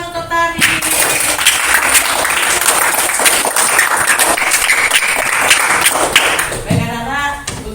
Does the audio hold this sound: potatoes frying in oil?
no